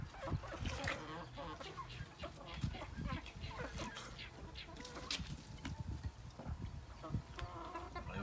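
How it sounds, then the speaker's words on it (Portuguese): Chickens cluck and cackle nonstop in a busy farmyard, several birds at once, moderately loud over steady background noise, with people talking now and then. "As galinhas, as galinhas."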